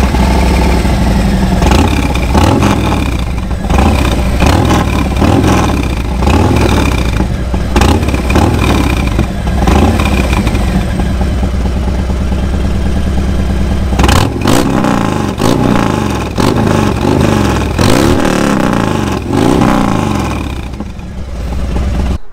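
A Harley-Davidson Sport Glide fitted with a Bassani Road Rage exhaust runs loud and close for over twenty seconds. Its deep, rumbling idle is broken by repeated throttle blips and revs that rise and fall.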